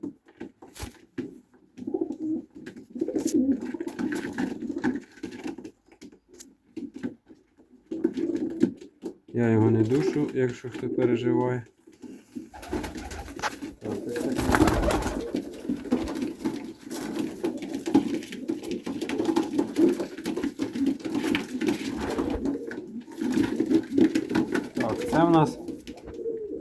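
A Turkish takla pigeon coos in soft bursts, held close in hand, while someone talks over it almost throughout; rustling and handling noises come and go.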